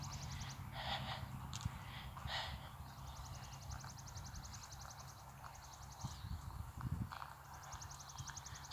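An agitated horse in a riding ring breathes heavily and snorts, with faint, low-level puffs and gasps plus some hoof and movement noise in the background.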